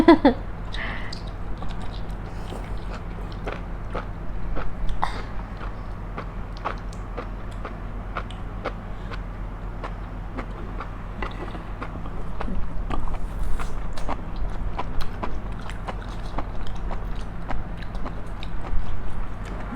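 Crunchy chewing of bacon-wrapped enoki mushrooms in mala sauce, close and steady with repeated bites over a low background hum, no talk heard.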